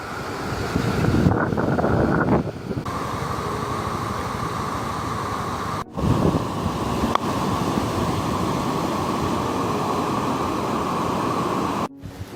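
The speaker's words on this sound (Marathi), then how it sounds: "वाईच पाऊस वाढला की आमच्या पुलावर लगेच पाणी येतं" Monsoon floodwater pours over a village bridge in a loud, continuous roar, with heavy wind rumble on the microphone and a couple of brief dropouts; no talking.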